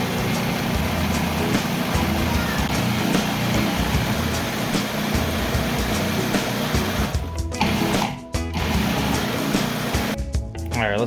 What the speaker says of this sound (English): put those in the food processor, blend them